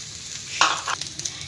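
Cooked rice and masala being stir-fried in a pan for egg fried rice: one brief scraping toss over a faint, steady sizzle, with a few small clinks after.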